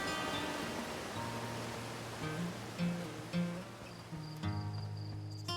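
Rushing water at the top of a waterfall in the Outer Wilds video game, a steady broadband roar heard throughout with soft sustained musical tones layered beneath it.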